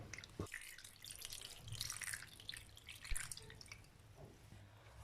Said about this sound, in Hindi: इसमें मैं अब ठंडा पानी डाल रहा हूँ ताकि जो इसकी खटास है वो ख़त्म हो जाए।